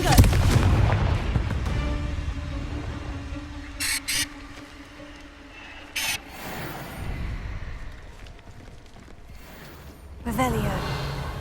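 Confringo fire-spell explosions in the Hogwarts Legacy video game go off as a few sharp bursts and booms amid battle effects and a soft musical drone, with a player shouting spell names over the action.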